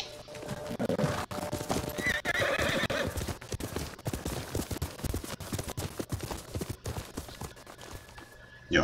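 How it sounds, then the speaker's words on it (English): Horse in the video game Ghost of Tsushima, with rapid clip-clop hoofbeats of a gallop and a whinny, loud and close, mixed with game sounds and no talk. "get on your horse."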